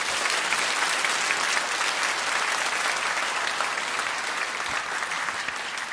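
Sustained applause from a church congregation welcoming a visiting pastor to the pulpit, steady and dense clapping filling the room for the full stretch without a break.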